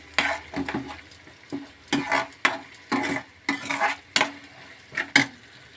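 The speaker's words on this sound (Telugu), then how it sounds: "ఇలా కలిపేసుకొని పోపు పెట్టేసుకోవడమే." A spoon stirs tomato and green chilli chutney mixed with tempering in a pan, scraping in rhythmic strokes about once per second, close and fairly loud with no talk.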